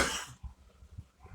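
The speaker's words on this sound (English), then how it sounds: "I have a bad cough" A single sharp cough bursts out at the start, followed by quiet low breathing and faint rustling.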